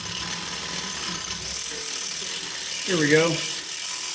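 A power drill spins up briefly near the end as a 3/8 inch bit bores a hole, for bolt removal, after steady background noise and a short spoken line.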